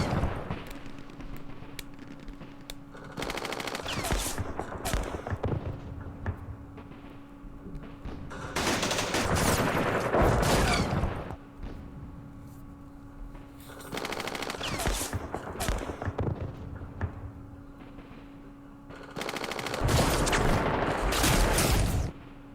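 Machine gun fire from the Campaign Series Vietnam war game, set in the Dien Bien Phu battle, comes in several sustained rattling bursts separated by short gaps, at moderate loudness with no talking.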